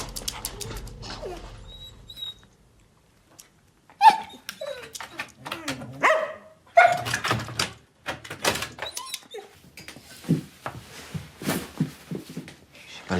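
A dog barks and whimpers in a home, with sharp yelps and whines scattered irregularly across the stretch, loud and close, amid thuds and low voices speaking French.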